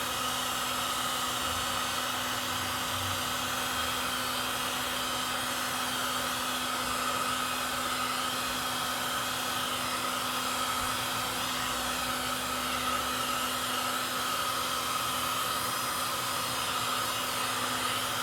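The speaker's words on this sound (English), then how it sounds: "Hair dryers sometimes don't get hot enough, so a heat gun's a good way to go. See how fast that works?" A heat gun blows hot air over a wooden Traditions Kentucky Pistol kit gunstock during grain raising, producing a steady, close, unbroken whirring roar with a fixed motor hum that runs throughout, with no talking.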